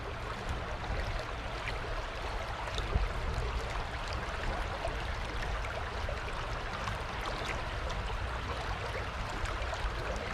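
Steady, broadband rush of Yangjae Stream in Seoul flowing continuously in autumn, close and fairly loud with no break.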